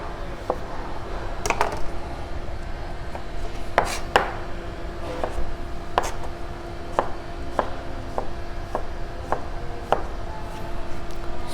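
A knife chops cucumber into small squares on a cutting board, with sharp, evenly spaced knocks against the board. The strokes repeat steadily throughout, close and clear, with no one talking.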